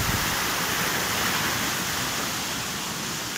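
Deep, powerful river floodwater rushes past in a broad, continuous roar, loud and steady with no other sounds.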